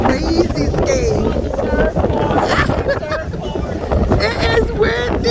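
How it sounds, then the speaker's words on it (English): Strong wind at Hollywood Beach, Florida, buffets the microphone in a constant roar, with surf churning underneath while a person talks over it. "It is windy."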